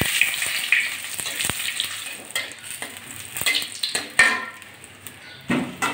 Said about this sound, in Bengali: আমি সাদা গোটা জিরে ফোড়ন দিয়ে দিচ্ছি তেলের ভিতরে, আর দিয়ে দিচ্ছি তেজপাতা আর শুকনো লঙ্কা।